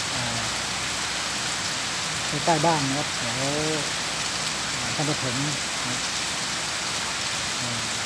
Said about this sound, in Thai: ฝนตกนะครับวันนี้ฝนตกหนักนะครับ